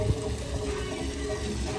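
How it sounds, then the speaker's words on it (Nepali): Waterfall on a hillside in Saudi Arabia, a steady broadband rush of falling water that holds constant throughout, fairly close and continuous with no voices over it. "पुरै झरनाहरू छन् यहाँ"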